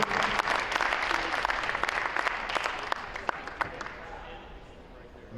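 Applause for Maddie Homer at an OA girls' volleyball senior night against Canton: steady, loud clapping from a gym crowd with sharp individual claps and some voices mixed in, fading slightly toward the end.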